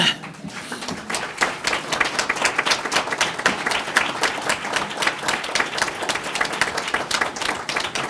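A room full of people at a town council meeting claps steadily, dense overlapping applause that holds at an even level throughout.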